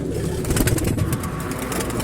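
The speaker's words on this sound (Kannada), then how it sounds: "ಒಂದು ಇಪ್ಪತ್ತೆಂಟು ಪಾರಿವಾಳಗಳು ನಮ್ಮ ಮನೆಯಲ್ಲಿದ್ದಾವೆ" About twenty-eight pigeons kept in a house coo softly in a steady murmur against a noisy background, with a faint engine hum underneath.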